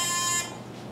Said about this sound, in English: I'll sound the buzzer possibly if I am not too distracted with other things